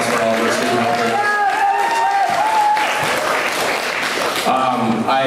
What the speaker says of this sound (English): So one last round of applause for all of our student helpers.